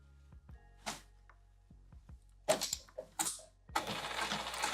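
A sewing machine stitches a velveteen boxy pouch in short, separate bursts of mechanical whirring and clicking, close and fairly quiet, with a longer steady run of stitching at the end.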